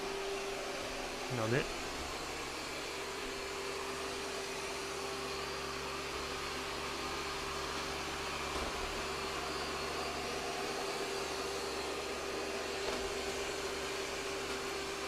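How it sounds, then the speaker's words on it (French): An Ecovacs Deebot T30 Omni robot vacuum sucks up pet kibble with a steady, close, whooshing hum and a constant whine. A person speaks briefly near the start. "On l'entend aspirer les croquettes."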